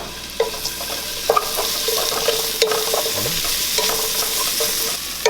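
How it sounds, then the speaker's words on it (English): Aromatics sauté in a little coconut oil in a pan for goat soup, with a steady sizzle and repeated clinks and scrapes of a utensil stirring against the pan at close range. "we're gonna saute this till smell fragrant"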